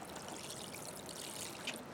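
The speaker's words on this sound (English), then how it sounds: "So I'm going to take and put a little bit of water in here." Water poured into a foam stucco glue mix, a faint, continuous trickling dribble lasting a couple of seconds with no talking.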